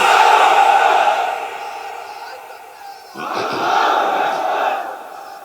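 A large crowd at a religious gathering roars a chant in unison in answer to a call, two loud sustained swells of massed voices with a brief dip between them.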